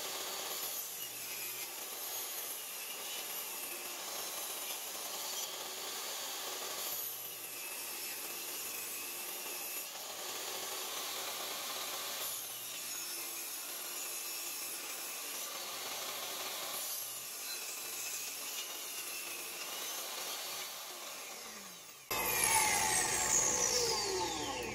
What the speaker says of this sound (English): we are going to get this cut down